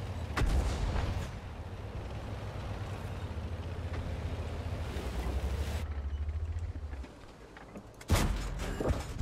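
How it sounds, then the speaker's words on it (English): Tank cannon fire in the World of Tanks video game, an E-25 shooting, comes as faint booming shots over a low rumbling engine drone, with a sharper blast near the end. "That's an E-25 shooting me."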